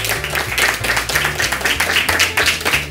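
Studio audience on a Spanish comedy show claps in a quick, rhythmic burst over a thumping music bed, loud and close, with sharp individual claps standing out from the crowd.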